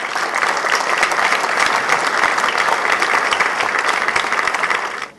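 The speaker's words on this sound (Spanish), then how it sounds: "merecen un aplauso en Puebla por haber sido tan buenos anfitriones" Loud, dense applause from a large audience honoring the hosts at an event in Puebla, on victim support, rolls on steadily for about five seconds, then drops off abruptly.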